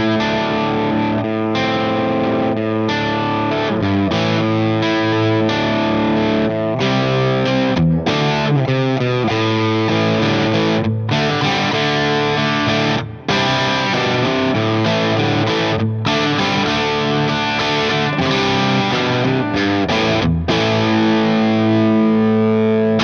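Yamaha Revstar electric guitar played through a high-gain amplifier in a rock style, thick distorted chords and riffs ringing out loud and continuous for over twenty seconds with no talking.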